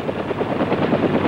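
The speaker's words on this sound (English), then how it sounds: "the use of the helicopter as an aerial weapon platform" Steady rotor thump of an attack helicopter flying, a loud continuous beating drone with a rhythmic pulse and no talking.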